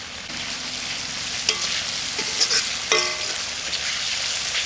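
Spices sizzle steadily in a hot pan with oil as turmeric and ginger-garlic paste fry, a continuous loud crackling hiss with a few brief sharper spits and stirring clinks.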